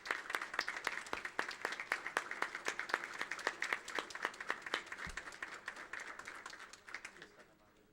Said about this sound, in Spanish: Le recibimos con un aplauso,